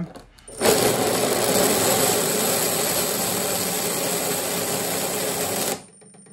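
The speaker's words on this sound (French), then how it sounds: "le tuyau, il repart. Il est aspiré par la pompe." Small 3D-printed suction pump running steadily, drawing liquid through a tube, a continuous buzzing mechanical whir that starts abruptly, holds even and loud for about five seconds, then cuts off.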